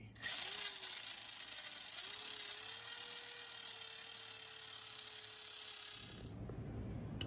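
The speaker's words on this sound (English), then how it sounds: "I'm going to use this paint stripping wheel on my drill and try to get some of the paint off this area" A power drill fitted with a paint stripping wheel grinds paint off a steel oil pan, a steady high whirring abrasion running about six seconds at moderate volume before cutting off, with the motor pitch wavering slightly.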